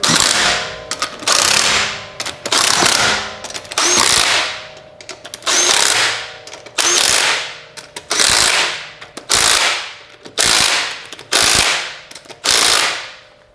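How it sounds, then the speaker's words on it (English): Impact wrench snugging lug nuts on an aluminum wheel of a Chrysler 200, loud buzzing rattling bursts of about one second each, repeated roughly ten times with short pauses between them. "I'm just going to use this impact to get the lug nut snug"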